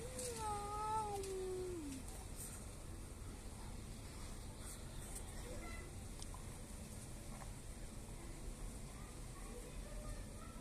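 A white cat meows a few times near the start in a kitchen during a French fry recipe, with rising and falling cries over steady background hiss before settling into constant noise.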